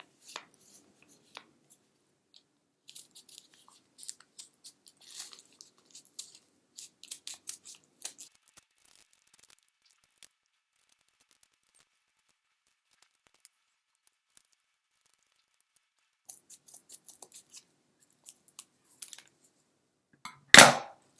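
Scissors snip through a sheet of paper folded in half four times: sparse, crisp cuts in irregular bursts, close and alone in quiet, ending with a louder rustle or handling sound.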